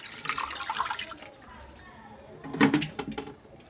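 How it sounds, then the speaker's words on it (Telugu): Gongura (sorrel) leaves are rinsed in water, giving soft splashing and trickling with a louder burst of sloshing near the end, fairly quiet overall. "చూసారు కదా, ఈ విధంగా వాష్ చేసుకోవాలి. బాగా క్లీన్ చేసుకుంటాను."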